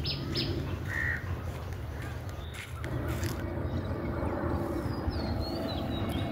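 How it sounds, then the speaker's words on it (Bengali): Birds call over an open rural field in Bangladesh, with several caws and chirps rising over a steady low rumble of background noise, moderately distant. "এখানে অনেক সুন্দর পাখির ডাক শোনা যাচ্ছে,"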